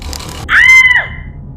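A woman screams sharply after catching her finger in a sewing machine, one short high shriek heard alone over a faint background hum.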